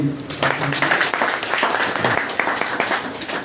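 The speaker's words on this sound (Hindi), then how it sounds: "जोरदार ताली।" Enthusiastic applause from an audience at a business seminar, dense clapping that swells and stays fairly loud for a few seconds.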